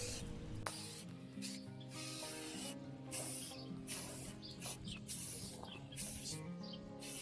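Spray can painting a wooden solar panel mount frame outdoors, with repeated short hissing bursts separated by brief pauses, close and fairly quiet, with faint birdsong in the background.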